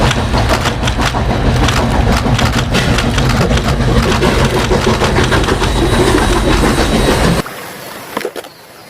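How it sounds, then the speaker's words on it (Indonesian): Toy Thomas the train running on its rails, a steady close rumble of wheels and motor with faint clicking that carries on evenly, then drops away sharply near the end, leaving quieter mechanical noise. "kereta api Thomas."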